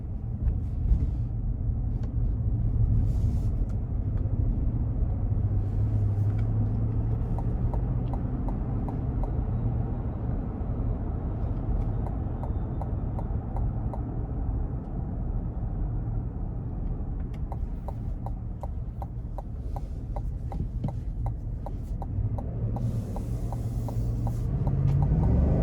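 A 2022 GMC Yukon Denali Ultimate with its 6.2-litre V8, driven in sport mode, gives a steady low engine rumble and road drone from inside the cabin, swelling louder near the end as the engine pulls harder.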